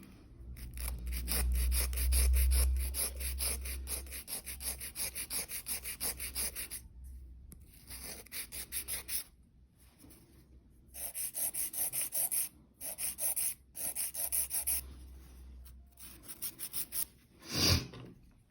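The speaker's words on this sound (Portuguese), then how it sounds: "basicamente, 3 lixamentos que eu fiz, né? Já deu o formato aí da nossa estrutura" Hand sanding a fiberglass mould wall, with long rasping strokes repeated in steady rhythm, pausing briefly between bursts, close and fairly loud with no talking.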